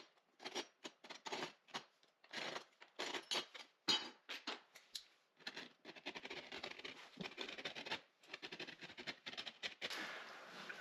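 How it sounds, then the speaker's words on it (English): Repeated short scraping strokes of a utility knife scoring cement board for a tile floor, close and fairly quiet, in uneven bursts with brief pauses, then a denser run of rasping cuts. "You score it with a knife, and then you can break it and then finish your cut."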